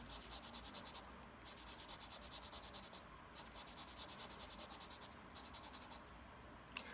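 Charcoal stick shading diagonal strokes on paper, a faint close scratching that repeats in quick regular rubbing strokes with short pauses between passes.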